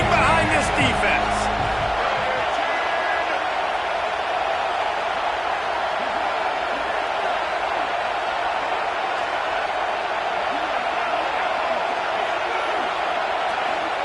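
A large football stadium crowd roars steadily on a big third down in the red zone, a dense continuous wall of cheering and noise with a brief slam near the start.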